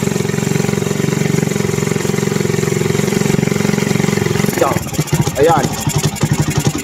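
A motorcycle engine with its carburetor screw pulled out runs at a steady idle, then begins to sputter and falter near the end, while someone talks over it.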